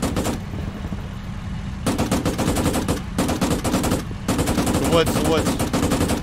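Gunfire in the video game ARMA 3: Iron Front comes in loud, close bursts of rapid shots separated by brief pauses, with a voice speaking briefly between them.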